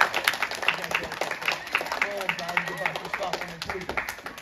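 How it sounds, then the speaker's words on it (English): Audience applause at a karate demonstration, a dense patter of many hands with cheering voices and talk mixed in, moderately loud throughout. "let's give her a applause out here"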